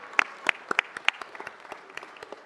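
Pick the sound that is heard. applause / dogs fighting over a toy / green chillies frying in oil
applause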